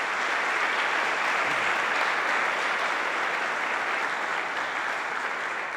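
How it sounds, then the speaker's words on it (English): Applause from the audience at an athletic hall of fame induction ceremony, a continuous, even roar of many hands clapping, moderately loud and sustained across the whole stretch without talk. "let's have a round of applause for these 4,"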